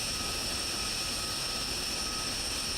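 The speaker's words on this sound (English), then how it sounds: "We can hear inSky spooling. Here, bringing their engine RPMs up" Jet engines spool up steadily in a DCS flight-sim air combat match, a loud continuous whine with sharp high tones over a broad roar, no voices present.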